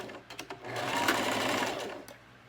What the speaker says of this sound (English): And I'm still using a zigzag stitch.